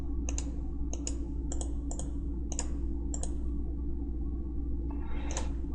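A computer mouse clicks repeatedly in CAD modeling software, about a dozen sharp close clicks arriving in quick doubles at a regular pace, over a constant low electrical hum.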